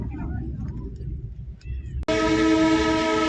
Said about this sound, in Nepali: ट्रेनको आवाज आउँदैछ होला होइन, ट्रेन जाँदो रहेछ